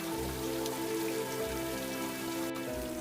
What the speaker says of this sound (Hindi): टपरी की छत पर गिरती बारिश की बूंदें जोर जोर से आवाज कर रही थीं।